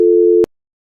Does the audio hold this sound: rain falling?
no